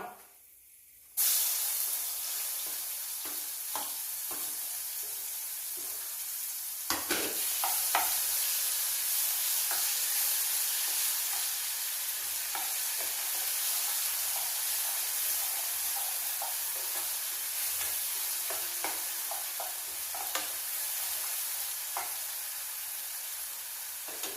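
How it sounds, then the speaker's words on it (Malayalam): Ground spice paste goes into a hot pan after fenugreek seeds and sizzles loudly, a sudden onset followed by a steady, dense frying hiss with occasional scraping stirs. "ഉലുവ ഇട്ട് കൊടുത്തതിന് ശേഷം എന്ത് ചെയ്യും നമ്മൾ ഈ അരപ്പുണ്ടല്ലോ അതാണ് ഇട്ട് കൊടുക്കുന്നത്"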